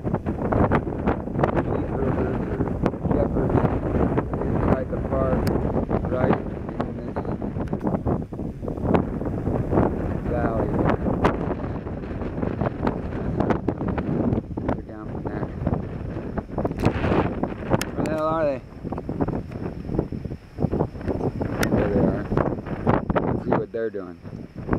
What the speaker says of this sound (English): Can't say there ain't enough wind today.